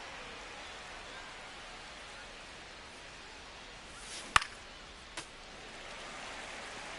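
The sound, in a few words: rain falling during a baseball game in MLB 25 video game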